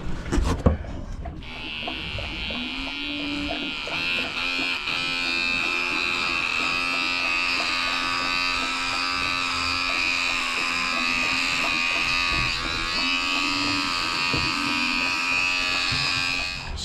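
Electric clippers buzz steadily and loudly at close range as they shave the back end of a goat named May, a constant high drone after a brief clatter as they start, with faint voices in the background.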